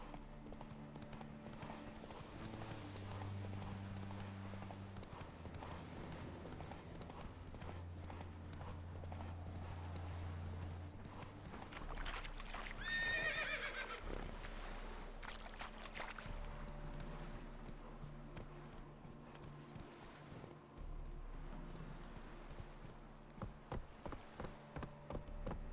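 Hooves of the horse Roach clip-clop steadily at a gallop in The Witcher 3, a rhythmic drumming of game sound effects over low ambient music, with a brief rattling flourish midway and a tap-like pattern near the end.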